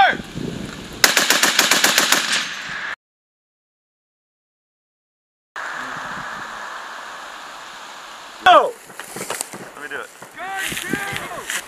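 Heavy M2 .50-caliber machine gun fired by Marines on a live-fire range, a loud, rapid burst of closely spaced shots, then a silent gap, followed by outdoor noise and shouted commands.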